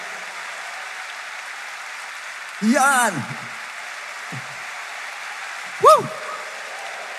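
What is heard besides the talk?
congregation clapping during a worship service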